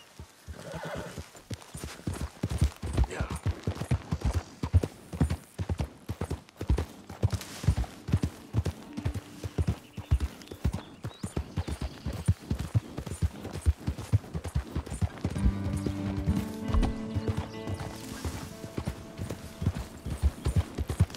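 Steady clip-clop of horse hooves at a trotting rhythm, with a horse whinnying, all set against the ambient backdrop of Red Dead Redemption 2.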